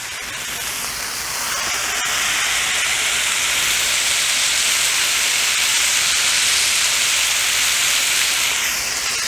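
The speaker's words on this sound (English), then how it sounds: "We're just gonna press them, smash them down. Get a good sear on them things." Smash burger patties, pressed flat on a Blackstone griddle outdoors, sear with a loud, broad, hissing sizzle that swells and then holds steady, with no talking.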